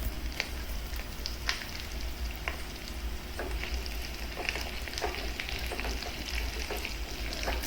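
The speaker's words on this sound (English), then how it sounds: "Now add 1 teaspoon of black sesame seeds." Black sesame seeds frying in ghee for Kerala parippu payasam, a steady close crackling sizzle with scattered pops and stirring throughout.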